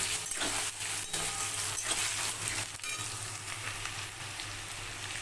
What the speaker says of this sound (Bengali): এই কুমড়োগুলো একটু হালকা হালকা করে ভেজে নিতে হবে